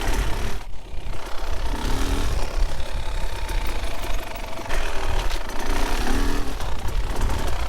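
A Beta 2024 Xtrainer 300 two-stroke motorcycle engine roars loud and close, a constant rough, rattling drone with brief dips in revs, and no voices.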